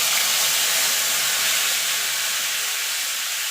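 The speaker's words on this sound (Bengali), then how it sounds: "এবার ফোড়নটাকে একটুখানি ভাজা ভাজা হতে দেবো" Whole garam masala, dry red chili and bay leaf fry in hot oil, giving a steady, loud broadband hiss that holds evenly throughout with no talking.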